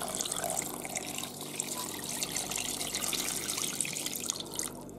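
A litre of clean water pours into a pot for a mushroom marinade, a steady splashing trickle that runs continuously at close range with no talk.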